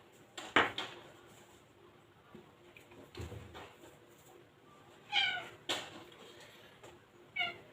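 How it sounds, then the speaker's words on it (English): A cat meows a few times, short and fairly close, amid quiet clinks and knocks of dishes in a quiet room. "You're in meowing at me again, Salem, are you?"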